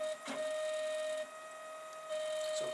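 A Protomaker 3D printer runs a dry test print without plastic, its stepper motors giving a steady high whine with brief clicks and shifts in tone as the head moves, heard close with no voices.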